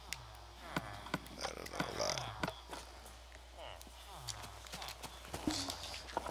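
Horse hooves clip-clop in Minecraft, a run of sharp, evenly spaced game footstep clicks under ongoing chatter and other game sounds throughout.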